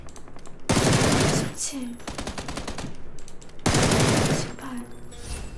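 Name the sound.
gunfire in a video game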